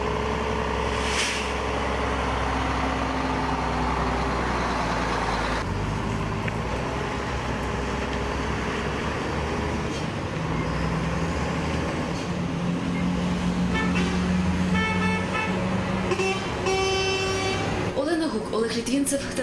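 Vehicles pulling away in road traffic, with a steady loud engine rumble and tyre noise, a horn toot, and a hiss like an air brake, while people talk throughout.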